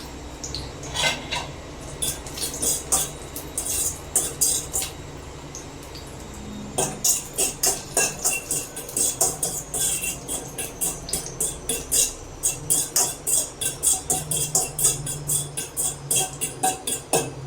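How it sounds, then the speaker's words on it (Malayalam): Cashew nuts frying in ghee in a pan, with a steady sizzle beneath busy metallic scraping and clinking of a spoon against the pan, stirring sounds growing more rhythmic and frequent in the second half; no voices. "ഇനി നമുക്ക് അണ്ടിപ്പരിപ്പ് അതിനകത്തേക്ക് ഇട്ട് കൊടുക്കാം."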